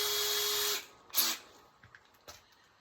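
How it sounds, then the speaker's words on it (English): A power drill with a 1/8 inch bit whines steadily for under a second while making holes in a 6 inch flue collar, followed by a few faint clicks and taps in a quiet room. "we can now screw drill our other holes with our 1/8 inch drill bit"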